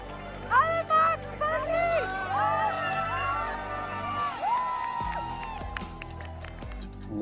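Crowd at the start of the UTMB 2025 ultra-trail race cheering and whooping with scattered clapping and shouts, lively and close, with a voice talking over it.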